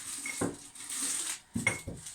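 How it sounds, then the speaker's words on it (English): Tea being made in a home kitchen: a tea bag dropped into a cup, with two or three close, sharp clinks of crockery and cutlery against a steady boiling hiss. "Okay, so this is boiling. Just me tea bag here."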